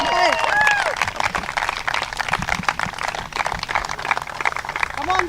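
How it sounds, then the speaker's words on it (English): Audience at a T20 cricket championship final applauding the player of the match, with steady clapping and crowd noise under a talking voice. "Keep clapping."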